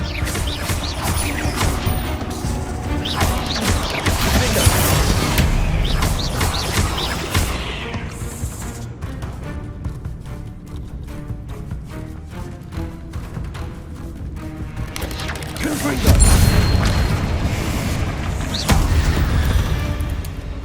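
Bombarda spell explosions from Hogwarts Legacy: loud crashing blasts and debris smashes in heavy bursts, a sustained barrage early on, a quieter stretch, then fresh booming impacts near the end.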